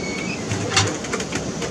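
Homing racing pigeons coo softly and low in a loft, the calls faint and intermittent beneath a steady hiss of background noise.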